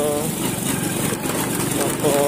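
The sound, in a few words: motorbike engine while riding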